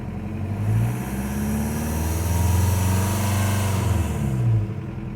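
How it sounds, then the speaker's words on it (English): A newly installed TDI diesel engine in a Toyota starts up and settles into a steady idle, a low continuous rumble with a slight rise in revs partway through. "just got it fired up here. Seems to be idling right away."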